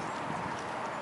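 Hooves of a bay pony gelding clip-clop steadily in a brief, fairly faint stretch, with no talk over it.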